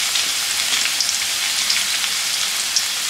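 Curry leaves hit hot oil in a pan already holding crushed garlic, giving a steady, close, bright sizzle and crackle with no talking.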